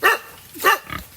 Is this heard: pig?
yes